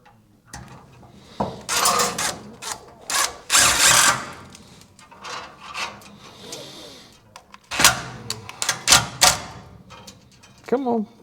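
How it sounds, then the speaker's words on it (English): Power drill driving self-tapping screws through stainless steel clips that hold stainless steel brake lines in a garage, heard as several short bursts of whirring with gaps of handling noise between them. "I just use self-tapper screws here."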